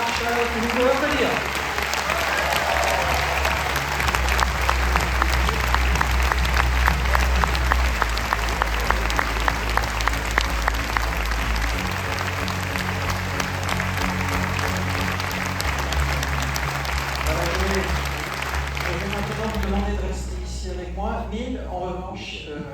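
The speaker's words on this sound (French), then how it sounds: "que vous pouvez applaudir" Sustained audience applause at an international film festival screening, a dense roar of clapping from a large crowd, loud and continuous, with music underneath and talk over it near the end.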